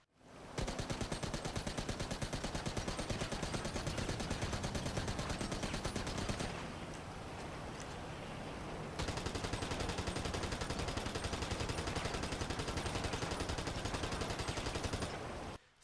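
A GTA Online military rifle and EL Strickler assault rifle fire continuously in long, rapid automatic streams, loud and close, with a short gap between the two weapons and no talk.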